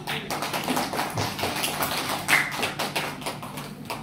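Dense, continuous clapping from an audience fills the room, steady and moderately loud, applauding the first speaker at an Indonesian teachers' seminar.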